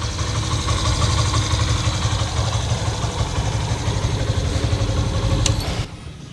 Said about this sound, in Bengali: এবার দেখেন ইঞ্জিন কন্ডিশনটা